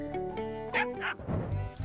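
A dog gives a few short yipping barks and whimpers in a home setting, fairly close, with soft voices and a thump mixed in.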